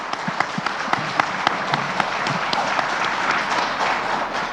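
Audience applause fills a conference hall at the close of a session at an international conference on the South China Sea, a steady dense patter of many hands with a few sharper claps standing out, continuous throughout.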